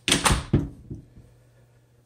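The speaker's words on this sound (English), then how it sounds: "I'm closing the front door." A house's front door swings shut, giving a few close knocks and a solid thud within the first second before the room goes quiet.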